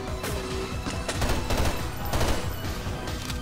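Rapid volleys of gunfire in the Underhell horror shooter game come as a string of loud, close, overlapping shots, swelling and easing in uneven bursts throughout.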